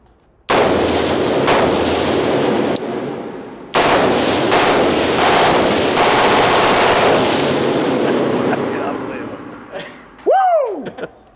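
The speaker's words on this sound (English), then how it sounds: "another AR-15 style that we converted to a machine gun" An AR-15 style rifle converted to a machine gun fires long, very loud fully automatic bursts at close range, several strings separated by brief pauses, ending with a short final burst.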